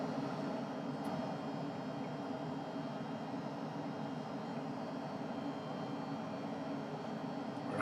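Rocket engine thrust from a thrust-vectoring engine during a launch to orbit in Kerbal Space Program, a steady, loud, continuous roar that holds evenly throughout without pauses.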